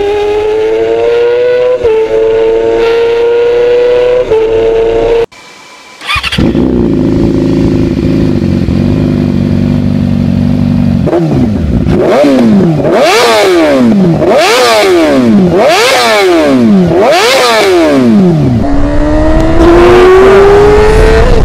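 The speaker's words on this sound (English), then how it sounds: "the R6 still has a characteristic and defining tone to it" A Yamaha R6 four-cylinder sport bike engine, known for its 17,500 RPM redline, revs loudly and close up. A brief cut comes before repeated sharp rev blips that rise and fall, then a final climbing rev, with no talk.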